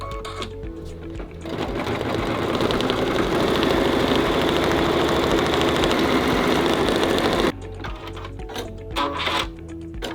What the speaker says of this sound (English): we're ready to put this back on the machine and sew the final stitch sequence in